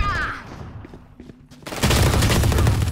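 An overpowered gun in a video game unleashes a sudden loud burst of rapid gunfire after a quieter stretch, continuing for about a second as dense, punchy shots.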